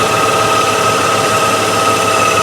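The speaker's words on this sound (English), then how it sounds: "But you can hear that bearing on the AC pump is not quite right." A Range Rover engine running with a misfire and a worn AC pump bearing, a loud, continuous engine drone with a rough, noisy whine layered over it.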